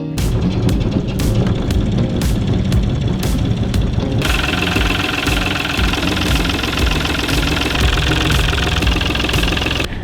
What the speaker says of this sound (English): First things first is to warm up the engine.